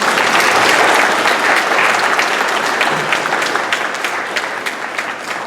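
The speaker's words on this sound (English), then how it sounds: "Can we get a round of applause?" Crowd applause for the Bowie Middle School cheerleaders at an evening school board literacy tour, a dense, steady wash of many hands clapping that stays loud throughout and fades slightly toward the end.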